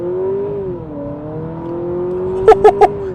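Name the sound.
hybrid car with eCVT accelerating hard off the line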